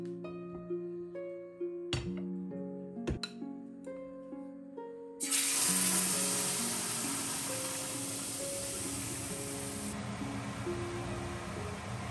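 Pizza sauce starts cooking in olive oil in a pan, a sudden loud sizzle that rises after a few seconds of clinking and knocking, then settles into a steady hiss under background music.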